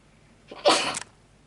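One short, sharp human sneeze, close and loud, with a faint intake just before it and quiet afterward.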